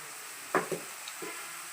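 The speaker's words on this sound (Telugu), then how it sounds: "ఉల్లిపాయలు బాగా ఫ్రై అయిపోయాయి కదా" Onions frying in a pan for a Gumma Chukka sea-fish curry, with a few short stirring scrapes heard close over a low, steady sizzle.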